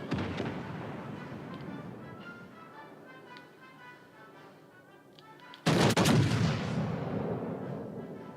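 A warship fires high-explosive shells in World of Warships: Legends, starting with a rumbling barrage of distant booms and then a sudden loud, close cannon blast that slowly rolls away.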